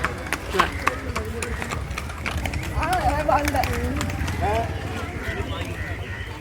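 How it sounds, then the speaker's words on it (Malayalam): Horse hooves clip-clop at a steady walking pace, mixed with people talking and outdoor street noise at Thrissur beach. "കുതിര"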